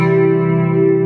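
Electric guitar in a clean tone through a Mvave Tank G pedal, a single sustained chord ringing steadily and loud up close, fading slightly with a faint touch near the end.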